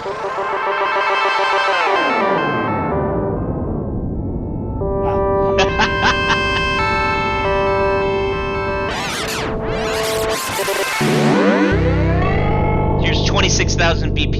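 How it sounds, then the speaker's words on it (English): A synthesized tone run through a tempo-synced delay in Unreal Engine 5 MetaSounds, with the echo length sweeping between very short and long repeats as it changes. Dense repeating tones with gliding pitches play continuously and loudly, with no talking. "as I change it, you'll hear the delay length change"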